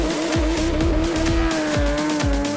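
Race cars launch off a start line on a circuit, engines screaming loud and close as they rise through repeated gear changes, tyres squealing underneath.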